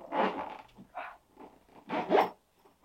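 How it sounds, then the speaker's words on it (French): A zipper being forced closed on a tightly packed travel bag: several short, uneven scratchy zipping strokes with small pauses between them, close up. "je galère à fermer le côté fermeture éclair"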